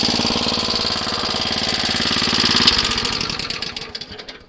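A cricket club's scarifier engine runs with its drive belt disengaged, a steady, close, throbbing mid-pitched idle that holds for a few seconds before slowing and dying away.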